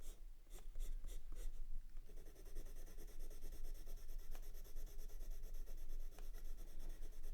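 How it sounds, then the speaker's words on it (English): A soft, dark Lumograph black pencil scratches across paper close up, with a few quick strokes at first and then a continuous rubbing scribble that runs on steadily. "Next, the Lumograph black pencil."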